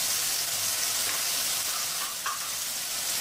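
Onion paste fries in a pan with a dense, unbroken hiss of sizzling oil close up, loud and even throughout, with one faint scrape partway through and no talking.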